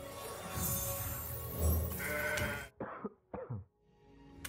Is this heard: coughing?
yes